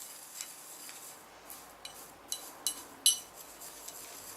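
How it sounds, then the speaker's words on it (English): Bath salts and flower petals are stirred in a bowl with a tool, giving soft gritty scraping and a series of light clinks and taps that grow a little sharper toward the middle. "we will then give it a good stir"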